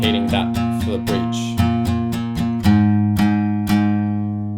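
Close acoustic guitar strumming of a song's bridge: a quick flurry of down-up strokes at first, then slower, fuller strums that ring out between hits.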